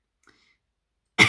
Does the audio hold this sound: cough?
yes